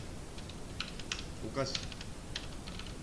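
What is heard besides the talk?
typing on a computer keyboard while writing code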